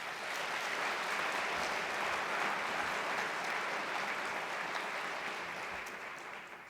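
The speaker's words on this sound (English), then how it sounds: "Let's give him another round of applause." A large audience at the 2022 Mississippi Farm Bureau Federation annual convention applauds steadily for several seconds, a broad even wash of clapping with no voices, which eases off slightly toward the end.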